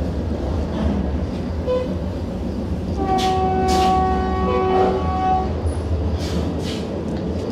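A Vande Bharat semi-high-speed train runs slowly at about 60-65 km/h through fog between Siliguri and Cooch Behar, with a steady rolling rumble heard from inside and a distant horn sounding for a couple of seconds midway.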